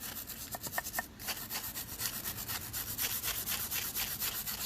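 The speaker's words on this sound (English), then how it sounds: "Get a nice wire brush." Steady wire brush scrubbing on the rear brake rotor of a 2013 Ford Focus, with rapid repetitive scraping strokes close by, loud and continuous, no talking.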